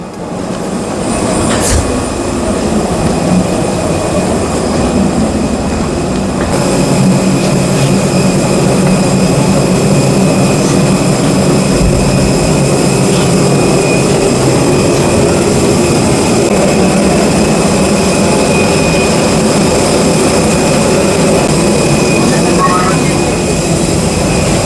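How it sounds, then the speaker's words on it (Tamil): Scoot Airlines jet engines roar loudly and steadily while passengers board, a broad constant rumble with a higher whine, a few sharp clicks and knocks scattered through it. "காய்ஸ், இதுதான் நம்ம போகிற ஃப்ளைட்டு."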